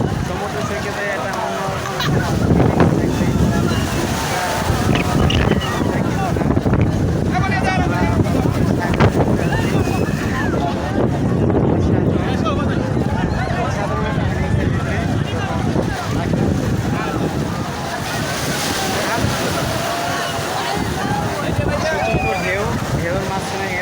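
Sea waves and gusty wind roll across the beach at Cox's Bazar, a loud continuous roar with wind buffeting the microphone while people talk over it.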